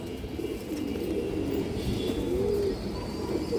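Khaki racing pigeons from a club coo softly in low, rolling, repeated calls, quiet and close, with no speech.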